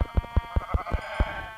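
A sheep bleating in a video game: a rapid, rhythmic run of about seven wavering bleats, loud and close, without talk.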